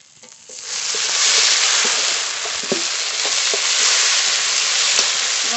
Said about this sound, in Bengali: মশলা ভালো করে কষিয়ে নিয়েছি,